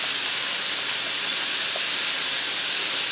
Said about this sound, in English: I'm going to allow that to fry for a few minutes so the onions and peppers soften up and the sausage starts to brown